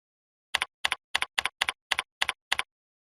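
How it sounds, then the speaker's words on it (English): Eight crisp, evenly spaced keystroke bursts on a computer keyboard, close and alone in silence, as a title is typed into a text box. "Then I'll click in the subject text box and type a title for the announcement."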